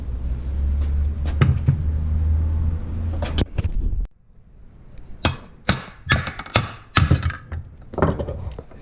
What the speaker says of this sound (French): on va taper dessus au marteau